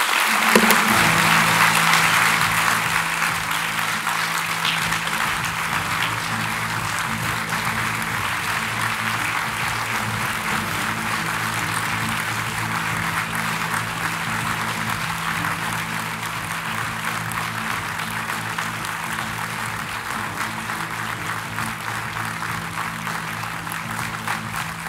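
Loud, sustained applause from a large audience at a formal presidential address welcoming a new president, dense and even throughout with no break.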